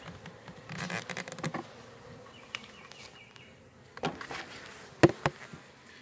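Honeybees buzz around an opened hive two weeks after installation, a steady low drone broken by scattered handling clatter and knocks, with louder bumps near the end.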